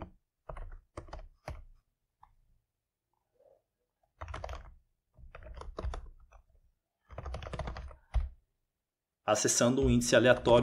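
Computer keyboard typing while writing JavaScript code, in short bursts of keystrokes separated by pauses, close and clear, with a louder burst of activity at the end.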